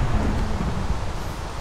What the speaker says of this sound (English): I love the sound of rain.